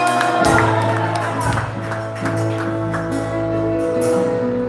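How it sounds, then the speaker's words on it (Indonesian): Applause and cheering from a church congregation at a Christmas Day service, a lively wash of clapping and shouts under a sustained organ-like tone, with people calling out in the crowd. "Berikan tepuk tangan bagi Allah kita"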